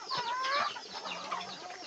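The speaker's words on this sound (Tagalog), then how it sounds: "Ito yung maliliit na mga manok natin." Small young chickens at feeding time give a quick burst of high, thin peeping and clucking calls, close and fairly loud, then quieter chatter over about two seconds.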